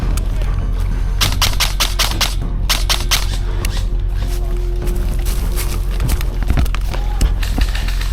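Rapid bursts of airsoft gunfire from an Arcturus URGI rifle firing BBs during trench clearing at an outdoor airsoft field, several quick volleys over steady background noise with no talk.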